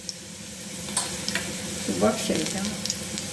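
Cumin seeds sizzling in hot oil for a tempering, with a close, steady frying hiss and a few light utensil scrapes and clinks.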